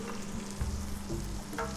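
Rabbit pieces fry in a pan with a strong, continuous close sizzle, broken by a few soft knocks and scrapes as the pieces settle. No voices.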